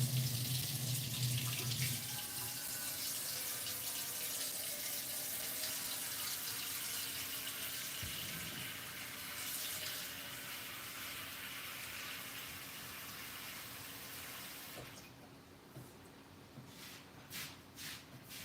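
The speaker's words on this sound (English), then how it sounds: "Just fill it up with some water and you're good to go." Tap water pours steadily into an oven-proof dish being filled for baking bread, a close, even rushing gush that runs for about fifteen seconds before cutting off, leaving a few faint clinks.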